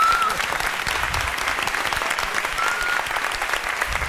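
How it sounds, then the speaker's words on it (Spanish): A crowd in a studio audience breaks into steady, dense clapping that holds at an even level throughout, with some faint background chatter. "Un fuerte aplauso para él."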